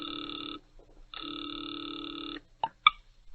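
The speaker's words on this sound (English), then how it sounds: "Now he waits, the ringing of a distant phone in his ears." A telephone rings in a radio drama, two long electronic rings separated by a pause, followed by a couple of short clicks, heard alone with no voices.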